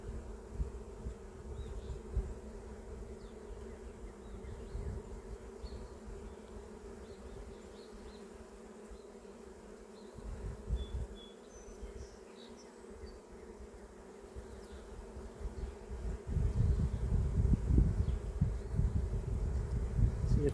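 Honey bees buzz steadily around an open hive during a first spring inspection, a close, continuous hum that swells louder toward the end.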